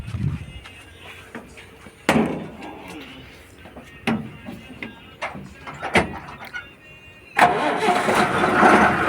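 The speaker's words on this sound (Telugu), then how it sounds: "నీ బండి ఎక్కి స్టార్ట్ చేయండి తొందర." A motorbike is started after repair work on smoke from the engine. Several sharp clicks and mechanical knocks come first, then the engine catches near the end and runs loud and rough.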